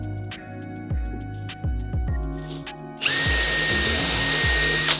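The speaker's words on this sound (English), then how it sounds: "So I'm going to go ahead and drill a hole through the box." A power drill boring a hole through a wooden box during bonsai repotting in a backyard; stop-start motor bursts at first, then a steady, loud continuous whine as the bit cuts through, close up.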